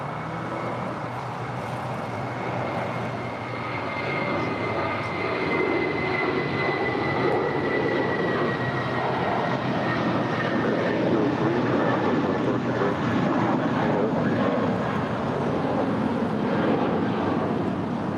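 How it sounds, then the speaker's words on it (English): An American Airlines Airbus A319 jet takes off from runway 25 right at LAX, its engines a sustained, distant roar that swells gradually, with a thin whine riding above. "This is American Airlines 803 departing to St. Louis. It's an A319."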